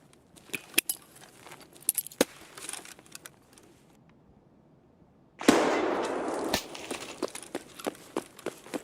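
A frag grenade explodes in the video game Escape From Tarkov, a sudden loud blast roughly midway that rumbles for about a second amid scattered clicks and footsteps.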